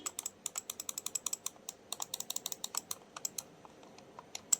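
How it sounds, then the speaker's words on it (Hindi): Rapid, crisp plastic clicks from a cheap wired gaming mouse without a DPI button, loud and close, clustered in quick irregular bursts over a quiet background. "क्लिक्स की आवाज़"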